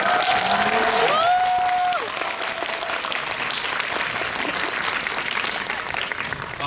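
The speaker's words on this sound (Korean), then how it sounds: "여러분 박수 쳐주시면 두 분을 위한" Audience applause at a film screening with a guest talk: a large crowd claps steadily and loudly, with a brief whistle-like tone and a voice early on, then continuous dense clapping.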